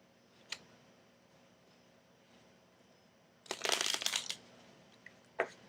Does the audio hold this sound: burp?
no